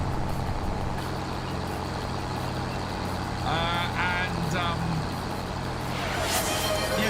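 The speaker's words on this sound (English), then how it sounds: "Why is my tractor so loud?" A loud, steady tractor engine drones throughout in Farming Simulator 25, with brief beeping tones partway through, while someone speaks over it.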